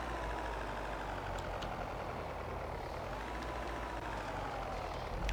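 Truck engine in BeamNG.drive while hauling cargo, a steady low rumbling drone with faint mechanical clicks, continuous and fairly quiet with no talk over it.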